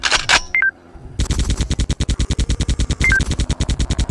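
Rapid machine-gun fire from a zombie-clown shooter game rattles out in fast, loud, evenly spaced bursts that carry on for several seconds after a short earlier shot and brief electronic beeps.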